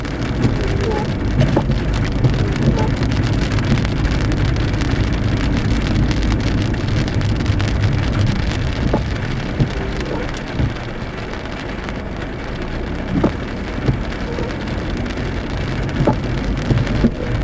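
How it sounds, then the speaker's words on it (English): Rain falls heavily over the city of Douglasville, a steady close hiss with scattered drips and brief louder spatters, and a faint low rumble of passing traffic beneath. "Douglasville in the rain."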